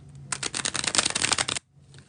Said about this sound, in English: That was the second and last bridge shuffle for the Leos.